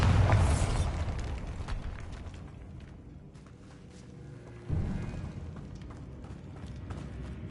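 Bombarda explosion spell cast in the video game Hogwarts Legacy, a loud burst at the start that decays into rumbling debris, followed by a second, softer blast partway through.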